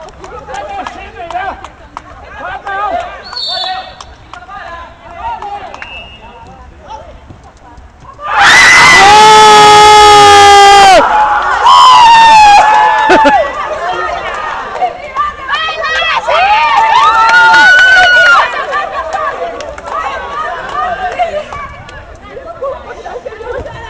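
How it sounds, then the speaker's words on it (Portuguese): A stadium crowd of fans at a Furia vs Real Madruga football match erupts into loud, sustained screaming and cheering for several seconds, rising above steady crowd hubbub, with voices talking nearby. "E a torcida vai ao delírio."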